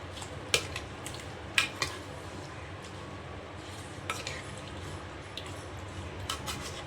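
A spoon stirs prawn and raw mango curry in a cooking pot, giving a low wet churning with a few sharp metallic clinks against the pot's side spaced a second or more apart. Nobody speaks.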